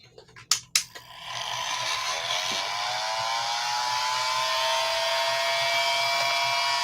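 A hair dryer blows on homemade Halloween ornaments, starting with a few sharp clicks and then settling into a steady, close, continuous whir with a faint high whine.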